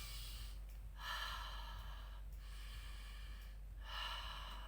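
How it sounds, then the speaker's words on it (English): Slow yogic breathing with a short inhale and a long, sigh-like exhale, repeated about three times. Each breath rises as a soft airy rush, then fades out gradually over a steady low room hum. "So shortening our inhale and lengthening our exhale,"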